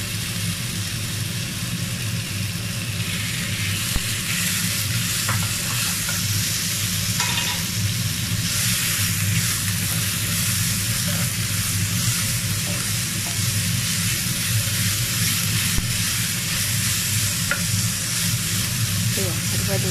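Pork slices with bitter gourd and black beans frying in a pan, a loud continuous sizzle with occasional scraping stirs, close up and steady throughout.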